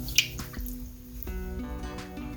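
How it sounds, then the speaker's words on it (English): Water sprinkled by hand onto a towel covering mung dal sprouts, heard as a few soft, close drips and light wet pats spread over a couple of seconds, with a quiet background hum. "It's a little bit dry, so I'm going to sprinkle some water."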